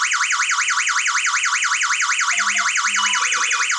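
A wireless home security alarm system with GSM dialler wails in a loud, rapid, continuous rising-and-falling siren, joined by a few short low beeps near the end.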